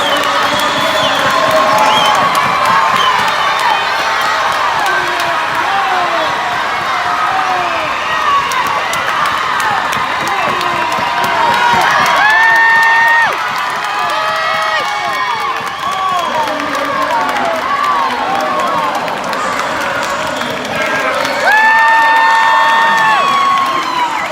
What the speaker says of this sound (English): Because everybody was cheering for Katie so hard